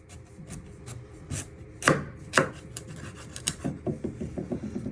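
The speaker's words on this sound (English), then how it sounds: "You're going to trim your ends." A knife cuts through the ends of a butternut squash on a board, two firm close chops followed by a series of rhythmic, quieter sawing strokes through the dense flesh.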